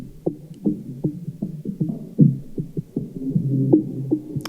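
Experimental drum loop with highs and lows filtered away and delay added, producing dull, muffled thumps in a loose repeating pattern with faint echoing tails, heard alone.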